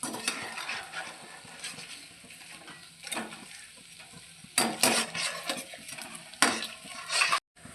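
Malabar spinach leaf fritters fry in a pan with a soft, steady sizzle, broken by a few louder scraping and clattering bursts as they are turned. No one speaks.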